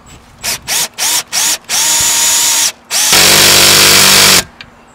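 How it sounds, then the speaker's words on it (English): A power drill drives lag bolts into a roof to mount solar panels: several short loud bursts of whirring with pitch rising on each, then a longer run, then a sustained heavy grinding spell, close and with no talk. "And I'll run her down in there. These are lag bolts."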